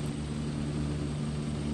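A steady aircraft engine drone from a plane landing in the flight game Extreme Landings Pro, a constant low hum held evenly throughout with no voices.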